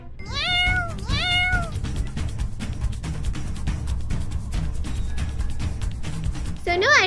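Several cat meows in quick succession at the start, with a kitten-like mew near the end, over a steady bed of background music in an animated scene.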